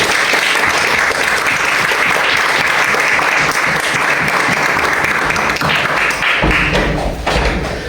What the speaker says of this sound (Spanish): Dale, dale palmas a Dios.